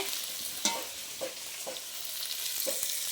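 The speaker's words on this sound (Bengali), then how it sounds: "আর এখন এদিকে মাছ ভাজা চলছে।" Hot oil sizzles in a continuous hiss as fish fries, punctuated by a few sharp scraping clinks of a utensil stirring the pan.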